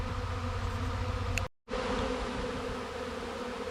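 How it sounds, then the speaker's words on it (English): Dense, steady buzzing of a honeybee swarm moving into a bee shed fills the air, loud and continuous, with one brief cut to silence partway through. "there are a lot of bees in the air"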